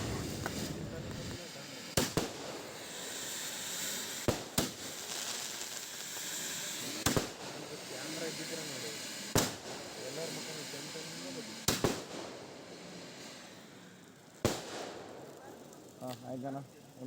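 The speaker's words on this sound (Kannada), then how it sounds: "ಲಾಸ್ಟಿಗೆ ಒಂಥರ ಲೈಟ್ ಬರೋ ಥರ ಏನೋ ಪಟಾಕಿ ಹಚ್ಚಿದ್ರಪ್ಪ" Firecrackers go off at a temple chariot festival at Swarnavalli Mutt, sharp loud bangs recurring every couple of seconds over a steady crowd hiss and murmur, with people talking throughout.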